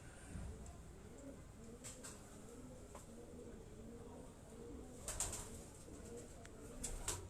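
Topi-breed pigeons on a rooftop loft coo softly in a low, rolling murmur that runs steadily throughout, with a few brief clicks and flutters mixed in and faint voices in the background.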